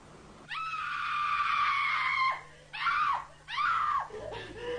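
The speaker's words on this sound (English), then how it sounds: "Independent acoustic consultants recorded her scream on tape and then arranged to play back through high-fidelity speakers" A woman's loud screams played back through high-fidelity speakers inside a flat, one long sustained shriek followed by two shorter rising-falling screams, then a faint trailing sob, heard alone with no talk.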